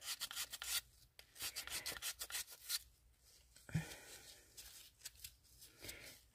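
Quiet, close scratchy rubbing of sandpaper on ceramic resin in short repeated strokes, rasping back and forth with brief pauses between passes.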